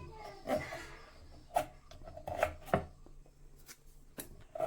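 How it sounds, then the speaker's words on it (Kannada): A knife chops into cluster fig wood in a few irregular, sharp cuts, close and fairly quiet, with soft rubbing between strikes. "ಈ ಥರ ಕಟ್ ಮಾಡ್ಕೊಳ್ಳಿ ನೋಡಿ ಚಾಕಲ್ಲೂ ಆಗುತ್ತೆ ಇದ್ರ ಕತ್ತಿಯೆಲ್ಲ ಆಗುತ್ತೆ"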